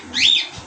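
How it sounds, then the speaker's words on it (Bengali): A pair of pigeons offered for sale gives one short, brief call or wing flutter, close and fairly loud against a quiet background. "সুন্দর এক জোড়া কবুতর নিয়ে আসলাম"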